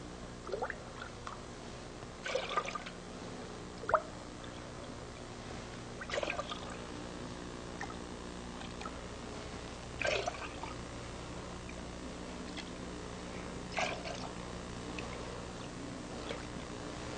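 Whey being ladled out of a pot of cheese curds, faint scattered drips, trickles and small splashes over a steady low background hum, no talk.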